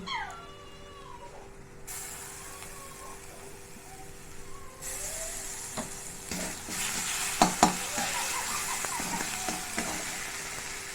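Ground onion paste goes into a pan of hot spices for a katla fish curry, then sizzles steadily under a stirring spoon that scrapes the pan, with a few sharper clanks near the end.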